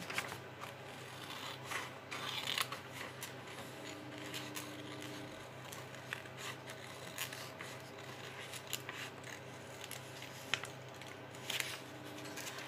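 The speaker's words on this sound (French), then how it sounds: "je vais découper" Paper being cut out for a piece of mail art, a steady run of close, soft snips and dry rustles over a faint background hum, continuous for several seconds with no talking.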